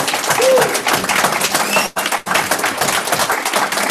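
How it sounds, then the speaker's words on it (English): An audience at a community violence intervention panel meeting applauds with dense, sustained clapping, briefly dipping near the middle before continuing strongly to the end. "So can we applaud the panel for a great discussion?"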